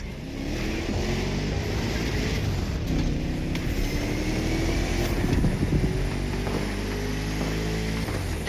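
A 1969 Mustang Boss 429 muscle car drives in The Crew Motorfest racing game, its V8 engine droning loud and steady with rising rev sweeps as it accelerates through gears, continuous and close, with no talking.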